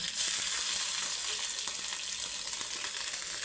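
Green chilies sizzle and crackle in hot oil with cumin seeds and lentils in a pan for a cauliflower fry, a steady close frying hiss with no talking.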